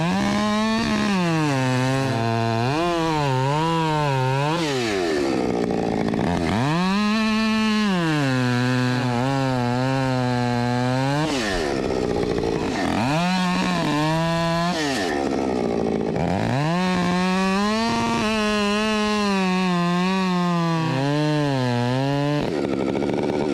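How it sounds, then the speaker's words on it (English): A ported 60cc 562 chainsaw fitted with full-comp square-ground chain, running close and loud on its own for the whole stretch, its engine pitch repeatedly surging up into high revs and dropping back toward idle. "This is a 562, 60cc chainsaw, I think."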